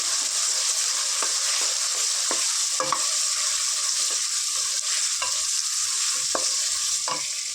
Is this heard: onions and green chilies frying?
yes